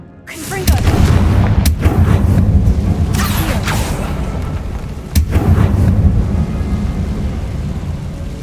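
Casting the Confringo blasting spell in Hogwarts Legacy sets off loud booming blasts, with sharp cracks at the start and again midway over a sustained rumbling roar of explosions and game effects.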